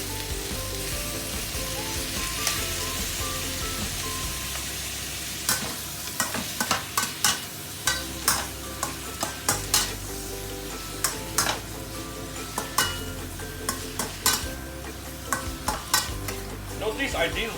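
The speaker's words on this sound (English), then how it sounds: "While we are stir frying this, I don't mind adding a little bit of Japanese cooking wine." Chicken stir frying in a pan for a Japanese-style chicken and potato stew, a continuous close sizzle broken by repeated sharp scrapes and clacks of a utensil against the pan.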